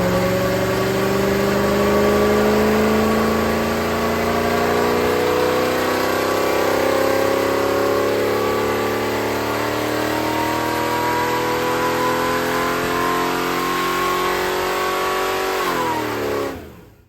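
A Rover V8 from a P6, running on a dynamometer for a stock baseline power pull, revs steadily upward in one long loud sweep, its burbling tone climbing for about sixteen seconds before abruptly cutting back at the end.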